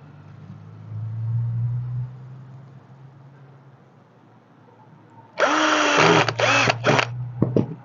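A power drill driving screws into a rubber tire while crafting a goose from an old tire, a loud sudden whirring burst with pitch sweeps and stop-start pulses after a stretch of low background hum.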